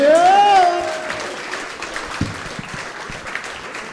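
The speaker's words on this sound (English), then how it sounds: "Don't you stop clapping" A comedy club crowd claps after a comedian's set, starting loud over a brief whistle-like tone then thinning into scattered, fading claps with some voices underneath.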